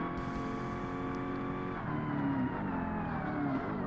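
American muscle car in Forza Motorsport, engine droning steadily at high revs with harmonic whine shifting pitch partway through, continuous and fairly loud throughout.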